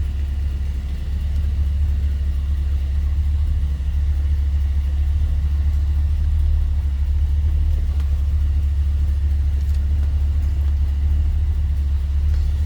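A 1964 Ford Galaxie 500 XL fastback's engine runs at a steady idle, a deep, even low rumble holding constant throughout with no talk over it.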